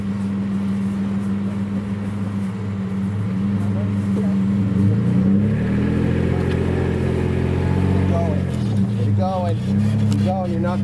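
An off-road vehicle's engine revs under throttle during a maximum differential axle flex test. There is a steady low drone that swells and shifts pitch midway, with voices calling out over the motor.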